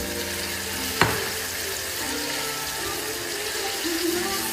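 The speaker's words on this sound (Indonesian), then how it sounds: "Kita masak, kita tumis." Sambal bajak with tuna fried in plenty of oil in a pan gives a continuous dense sizzle, close and fairly loud, with a single sharp clack near the start and no talking over it.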